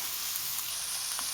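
Chicken pieces frying in a pan with carrot and onion give a steady, quiet hiss and soft sizzle, with no talking.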